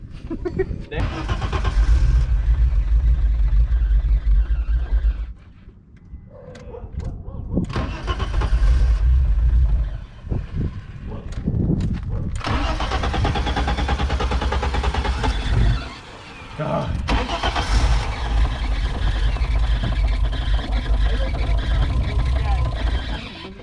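A BMW E30 engine with a lumpy, loping idle blows debris out of the exhaust, running loud and close in long bursts with brief drops between them, while people talk over it.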